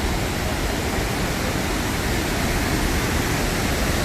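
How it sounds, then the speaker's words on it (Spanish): A large waterfall roars steadily and loudly at close range, a dense unbroken wash of falling water with no voices over it. "esa es la cascada más grande, mi gente."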